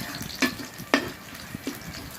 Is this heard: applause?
no